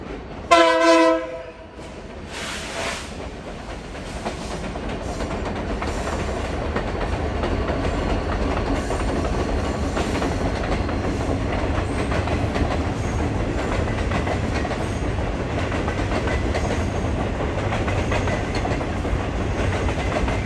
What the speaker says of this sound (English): what do you know? A train came.